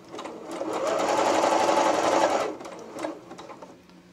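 Sewing machine stitching elastic onto a seam allowance at a neckline, a close, steady whirring run of about two seconds that stops, followed by a few short softer bursts.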